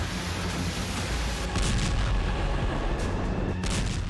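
Missile strike explosions on the Crimea front, heavy booms and rumbling blasts over a dense, roaring background, with sharper bursts near the middle and end.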